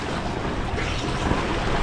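Seawater waves breaking and splashing over a sailboat in strong Caribbean wind, a loud continuous rushing wash of spray and gusting wind noise filling the whole moment, no talk.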